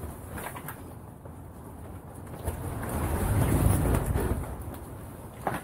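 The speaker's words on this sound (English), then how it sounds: "Wow, that's strong wind." Strong gusty wind during a wind advisory buffeting an ice fishing shanty on a frozen lake, a continuous roaring rumble that swells louder midway, close and with no one talking.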